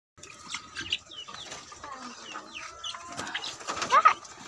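Soft clucking of chickens amid a busy farmyard background with ducks, scattered calls and some brief voices, growing a little louder toward the end.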